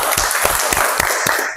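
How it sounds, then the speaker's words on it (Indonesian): Classroom applause during a physics lesson, a short burst of quick, fairly loud clapping from a group of students, steady and close throughout. "Tepuk tangan buat kita semua."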